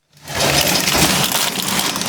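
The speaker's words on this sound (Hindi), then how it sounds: "कवर लगवा लिया, बारिश शुरू हो गई है।" Rain begins falling on a cover during a trip home from Pachmarhi, and a dense, loud, steady hiss of drops comes in abruptly and continues without pause.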